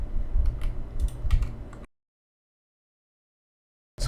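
Keyboard shortcuts typed on a computer keyboard, a quick run of close, crisp key clicks that stops abruptly into silence, with another burst starting right at the end.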